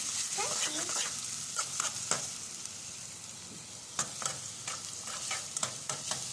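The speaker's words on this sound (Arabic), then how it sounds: "التقليبه الحلوه نديها تشويحه حلوه كده، ندبل البصله بس في الزيت" Onion and peas sautéing in hot oil, with a steady close sizzle and repeated scraping stir strokes of a utensil against the pan at an uneven rhythm, no talk over it.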